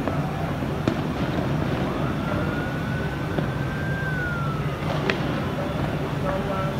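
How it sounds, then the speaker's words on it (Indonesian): Tear gas canisters are fired during a night protest in Jakarta, heard from a 16-storey rooftop as sharp distant pops and bangs scattered over a constant city rumble, with a siren wailing faintly in the background. "Dipastikan bahwa ini adalah tembakan gas air mata."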